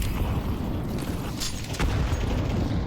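Grenade going off in a shooter video game, a dull booming blast with a sharp crack in the middle, set amid steady low rumbling gunfire-like noise.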